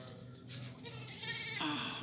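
A newborn lamb bleats at a goat, sheep and rabbit farm in Lampung. It gives a close, wavering cry that grows louder partway through, over quiet barn background.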